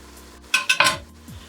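A spoon scrapes and knocks against a pot while frying egusi soup is stirred, three quick close metallic clatters over a faint background hum, with no talking.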